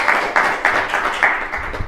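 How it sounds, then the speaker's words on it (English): Audience clapping after a talk on robots in human spaces: a small crowd applauding at a steady, rhythmic pace, close and moderately loud, with no voices over it. "Give another round of applause, please."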